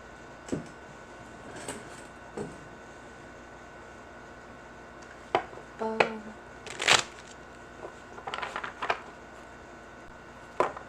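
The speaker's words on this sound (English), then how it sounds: "I'm just shuffling some tarot cards" A deck of tarot cards is shuffled by hand, producing faint, soft riffling and papery flicks in scattered short bursts against a quiet room background.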